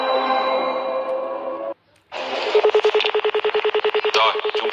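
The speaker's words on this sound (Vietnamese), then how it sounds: "Gọi điện thoại cho người thân." On a televised quiz show, the Vietnamese edition of Who Wants to Be a Millionaire, a phone call is placed to a contestant's relative: a sustained tonal sting, a brief silence, then a loud, steady train of rhythmic electronic dialing pulses.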